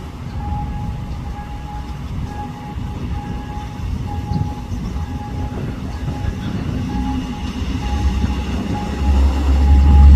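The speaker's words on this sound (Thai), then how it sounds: "รถจักรหนึ่งคัน ลากขบวนมา" A single locomotive hauls an express freight train along a Thai railway, producing a steady rolling rumble with a faint whining tone that grows louder and heavier toward the end as it approaches.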